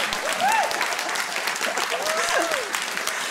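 Comedy club audience in Brussels applauding a stand-up set, a steady wash of clapping across the whole stretch with a few whoops rising above it.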